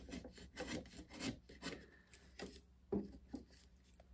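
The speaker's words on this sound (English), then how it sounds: "I'm just going to take a rasp here to sort of try and" A hand rasp files the wooden frame of a skin-on-frame Greenland-style kayak in a run of uneven, scratchy strokes at close range, with short pauses between passes.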